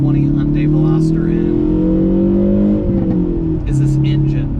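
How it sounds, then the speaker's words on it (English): Exhaust of a 2020 Hyundai Veloster N, a 2-liter turbocharged four-cylinder hot hatch, droning loud and close as revs rise and settle, with someone talking over it. "this exhaust, man, this is my favorite part, I think, by far."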